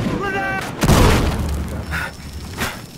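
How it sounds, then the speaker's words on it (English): A grenade explosion in the video game Battlefield Hardline, during a bank job heist match: a loud, booming blast near the one-second mark, with gunfire and game noise continuing around it. "Eat this grenade!"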